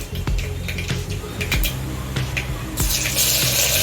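Garlic dropped into hot oil for a cluster bean and potato dish sizzles steadily, a close, bright hiss with light clinks and taps over it, swelling louder near the end.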